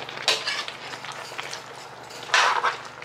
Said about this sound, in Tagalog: Halu-haluin lang natin siya.